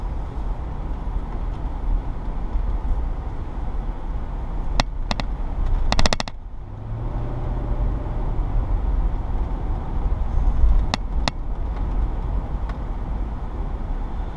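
Steady low road rumble inside a Lexus GX 470 cabin while driving past a busy stadium flea market, a few sharp clicks and a brief lull midway, otherwise a continuous muffled hum with no talking.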